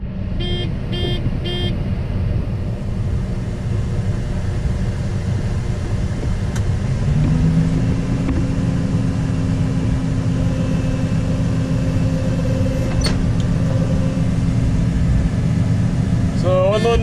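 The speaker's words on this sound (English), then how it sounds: "Unloading straight onto the truck." A combine harvester unloads soybeans from its full hopper straight onto a truck, its steady mechanical rumble and drone picking up a rising sustained hum partway through and running loud and continuous to the end.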